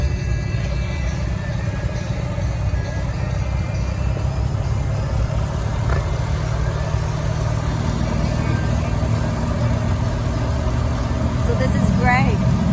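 Engine of a 1JZ-swapped Foxbody Mustang notchback idling steadily nearby, a continuous low rumbling hum that holds for the whole stretch, with a few faint higher chirps near the end.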